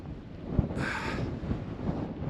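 Steady wind buffeting the microphone at an exposed cliff edge, a continuous low roar with a brief hissing gust midway and no voices.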